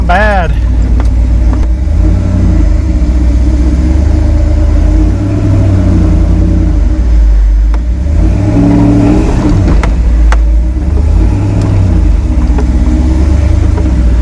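An EFI V8 Toyota pickup truck with newly trimmed fender flares drives on its first run, its engine a loud, steady drone that swells as it revs. A voice is briefly heard at the start.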